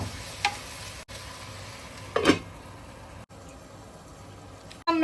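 Chicken thiyal simmers in a pan while it is stirred: a faint, steady sizzle with a couple of brief scraping strokes from the spoon against the pan, close and quiet, with no talking.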